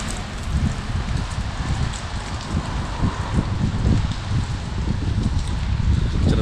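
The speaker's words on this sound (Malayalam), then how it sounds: "ചെറുതായിട്ട് മഴ ഇപ്പോൾ ചാറുന്നുണ്ട്" Light drizzle falls outdoors on a windy street in Liverpool, a steady soft patter with a broadband hiss and gusty low rumble throughout, with no voices.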